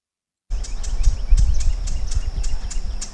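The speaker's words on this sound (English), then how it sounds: "y'all can hear a little more of the bird sounds, the morning bird sounds, like the swamp's waking up again" Morning birds sing in a swamp at dawn, short bright chirps repeating at a fairly steady pace over a low rumbling outdoor background with no one talking.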